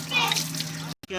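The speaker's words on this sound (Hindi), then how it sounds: "अब एक देख के चावल हम धो रहे हैं" Water sloshes and splashes as rice is washed by hand in a large pot while cooking chicken pulao, with a voice talking over the wet swirling before a brief cutoff.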